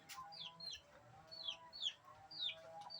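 Faint chirping and peeping calls of chicks repeat softly in a quiet yard, with soft low clucks of a hen underneath.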